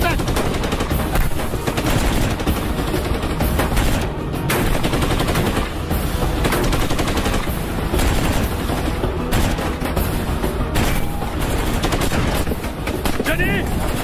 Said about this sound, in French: c'est la mitrailleuse qui nous tire dessus!